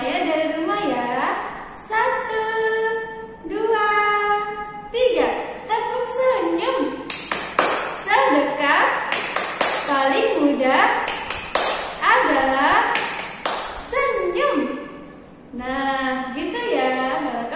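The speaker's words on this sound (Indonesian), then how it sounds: "yuk kita tepuk senyum bersama-sama" Children doing the tepuk senyum clapping routine in an Indonesian primary school lesson led by a teacher, rhythmic clap patterns alternating with sung or chanted voices, close and lively.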